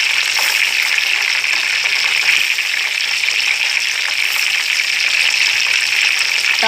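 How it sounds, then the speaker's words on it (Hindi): Hot ghee poured over a nimko mixture in a kadai, giving a loud, continuous close hiss and crackle like rushing water, with no pauses. "साथ साथ आप ये गरम घी इसके ऊपर डालते जाएं"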